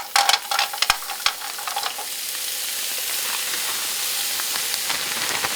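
Bagged frozen chicken, rinsed, hits a hot pan for spicy chicken quesadillas; a few sharp clatters open, then a loud steady sizzle settles in and hisses on without letup, close by and with no voices.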